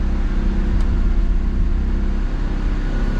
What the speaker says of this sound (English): It's idling quite high for the first brief moments.